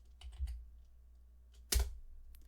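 A single firm press of the Enter key on a computer keyboard while working in a spreadsheet, one sharp close click after a few softer key taps, with quiet room tone between.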